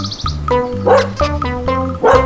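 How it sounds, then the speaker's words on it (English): Dog barking in a quick run of several sharp, close barks, loud and clear with no voices. "Dog."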